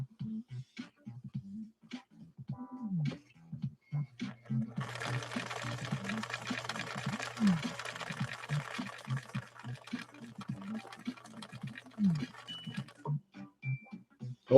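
A 1961 Viki sewing machine running Sulky 40 wt embroidery thread, stitching in a busy mechanical patter of repeated clicks and whirring, with a louder stretch in the middle and quiet moments between bursts.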